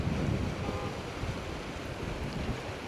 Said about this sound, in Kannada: ತುಂಬ ಜೋರ ಗಾಳಿ ಇದೆ, ತಣ್ಣಗಿದೆ ಗಾಳಿ